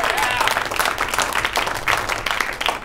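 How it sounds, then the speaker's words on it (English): A crowd applauds steadily for a few seconds at a live comedy show in Las Vegas, dense clapping filling the room with a light murmur of voices mixed in. "I have one more big round of applause for all the student guys"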